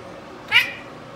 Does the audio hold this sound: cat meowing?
yes